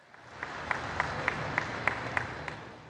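A large crowd claps together at a tribal gathering in Jhabua marking the founding of a university, a steady, dense wash of applause with sharp rhythmic claps standing out about every half second.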